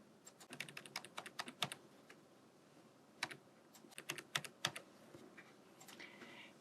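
Keys clatter on a computer keyboard as a property's official assessed price is entered by hand into a tax calculator, in quick bursts of soft clicks with short pauses, close and quiet.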